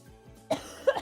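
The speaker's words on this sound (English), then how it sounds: "I'm having like a coughing fit" Two sharp, close coughs about a third of a second apart, with a throat-clearing quality, part of a coughing fit in a quiet room.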